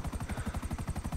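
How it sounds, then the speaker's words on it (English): A chrome Buzzard helicopter in GTA 5 flies steadily, its rotor thumping in a fast, even beat. Engine whine sits underneath, and the sound is moderately faint and continuous. "we got ourselves a brand new awesome chromey helicopter to use temporarily"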